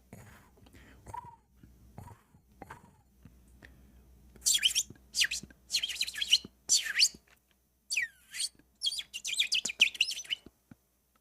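A person's voice imitates a bird, giving a run of breathy, high chirping whistles in quick bursts after a few quiet murmured sounds at the start.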